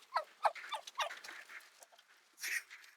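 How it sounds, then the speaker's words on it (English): Backyard homestead chickens peck at greens thrown on the ground, giving soft, scattered clucks and gobble-like calls at a modest distance, with a brighter burst near the end. "The chickens come running when they see me with some green in my hand."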